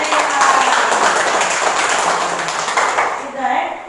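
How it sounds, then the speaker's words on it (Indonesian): A school class claps for a student, a short burst of scattered, fairly close hand claps mixed with voices and classroom chatter, fading slightly before a final flurry. "Oke, tepuk tangan untuk Rila."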